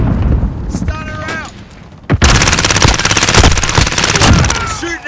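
Loud, rapid automatic gunfire in a Call of Duty: Modern Warfare hardpoint match: a few scattered shots, then a dense, sustained burst of close fire with in-game chatter and effects mixed in.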